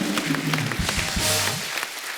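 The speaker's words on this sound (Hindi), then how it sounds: "एक बार जोरदार तालियां" Audience at a Kesari 2 film promotion event clapping to welcome an actress, a steady burst of applause with voices mixed in.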